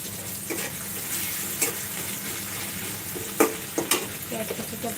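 Spices fry in a pan in a home kitchen at night, giving a soft continuous sizzle with a few scraping stir clicks and light clatter, close and fairly quiet.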